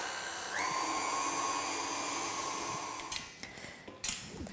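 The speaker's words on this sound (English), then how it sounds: "so don't step away from the mixer" An electric mixer whipping cream for a baking recipe, a steady high motor whine that runs for about three seconds, then stops, followed by a few light clinks.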